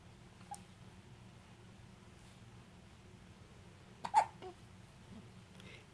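A baby lying on a playmat gives a single soft hiccup in a quiet room, preceded by a faint small vocal sound.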